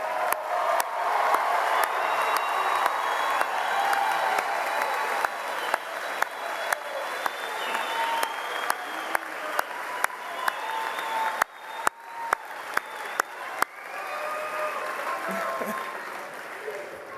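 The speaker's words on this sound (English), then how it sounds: "I will give you one more opportunity to applaud all our graduates." An audience at a university spring commencement ceremony applauds the graduates with sustained, dense clapping, some nearer claps ringing out sharply over the crowd, while a voice speaks over it.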